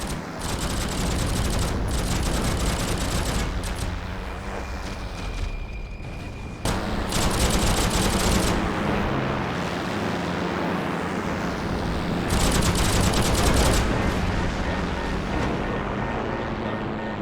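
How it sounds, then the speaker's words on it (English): P-38 fighter plane in the video game Heroes and Generals firing its nose cannons and machine gun: dense, loud, continuous bursts of rapid gunfire over a steady aircraft engine roar, with brief pauses between strings of shots. "shred it using those nose cannons, plus the MG"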